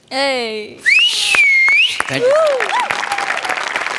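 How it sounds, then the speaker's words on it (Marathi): Loud wolf whistles rise and swoop over a burst of audience applause and cheering, with clapping continuing steadily after the whistles fade. "तुझ्यासाठी परत एकदा शिट्टी गौऱ्या."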